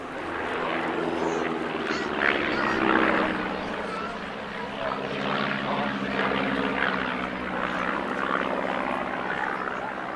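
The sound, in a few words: Stomp formation team propeller aircraft flying at airshow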